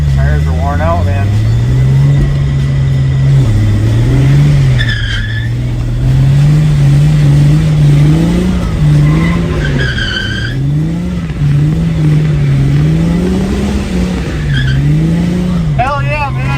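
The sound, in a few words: New Edge Ford Mustang drifting on wet track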